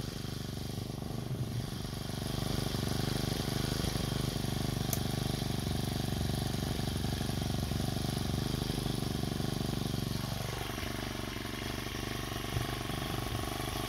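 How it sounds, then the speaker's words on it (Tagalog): A grass cutter engine runs in an eggplant field on a farm, a steady, loud motor drone that fills the whole stretch; its pitch sags and settles lower near the end. "So ga-grass cutter na po tayo."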